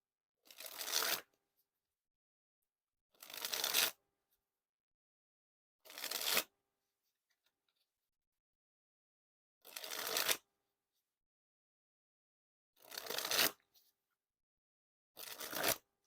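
A fresh deck of red Bicycle Cyclist playing cards dribbled from hand to hand, six quick bursts of crisp fluttering card snaps separated by pauses of silence, close and clear.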